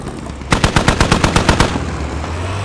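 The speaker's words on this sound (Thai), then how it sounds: "มีปืนกลยิงเข้ามาครับ" A rapid burst of about ten sharp, loud machine gun shots in even rhythm from the video game Squad, then a low engine-like hum of a vehicle continues afterward.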